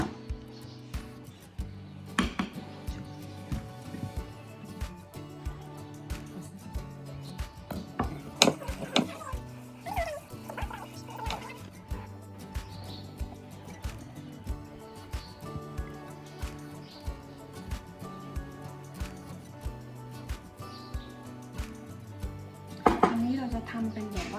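Limes cut into halves with a knife on a board in a home kitchen: a long run of steady, close chopping taps with occasional louder knocks and a faint clatter of dishes under them.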